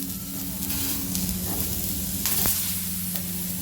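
Tomato pieces sizzling and frying in a hot pan for a kudasa chutney, a steady close hiss with a few stirring scrapes and clicks, and no talking.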